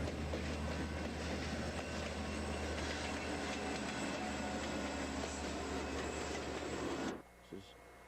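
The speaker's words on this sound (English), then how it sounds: "we happened to pass this train on its way down to Seward" Train passing along the road to Seward in Alaska, a continuous loud rumble and rattle of rail cars rolling by close for about seven seconds, then cutting off abruptly, with some voices mixed in.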